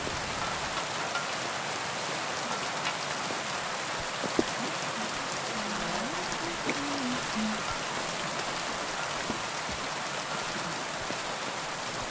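Steady rain in Kingdom Come: Deliverance II patters down on a surface, a constant wash of drops with a faint low tonal sound briefly rising in the middle.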